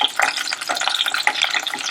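Green chillies fry in oil for Hyderabadi mirchi ka salan, giving a close, dense crackling sizzle broken by quick stirring scrapes.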